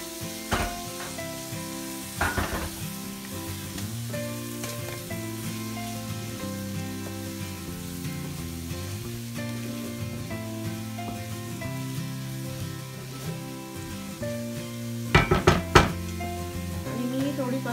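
Prawns added to fried masala in a pan give a continuous close sizzle with a few sharp utensil knocks and clinks against the pan, moderately loud throughout.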